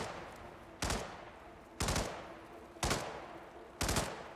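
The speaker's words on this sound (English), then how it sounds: "They're shooting at a moose head." Gunshots in the game Hitman, aimed at a mounted moose head: four loud, sharp bursts about a second apart, each one ringing out and fading before the next.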